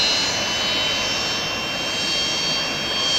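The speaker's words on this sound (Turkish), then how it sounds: "Ukrayna'dan gelen Antonov 32P tipi yangın söndürme uçağı ile şu an Antalya Havalimanı'ndan havalanıyoruz." Antonov An-32P firefighting aircraft engines during takeoff from Antalya Airport, a loud, steady broadband roar with a faint high whine, heard from inside the plane and continuous throughout.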